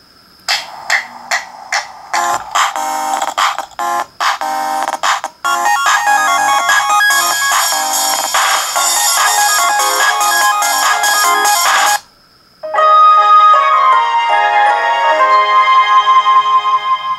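Ringtones built for the Sony Xperia SO-04E phone play one after another: a run of short, bright synth tones with gaps, then a dense, loud electronic melody, a brief pause, and another tune.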